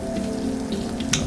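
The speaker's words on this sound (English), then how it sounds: "And you can hear the meat sizzling." Meat sizzles over a campfire in the survival game Stranded Deep, a steady crackling hiss like light rain, with one sharper pop near the end.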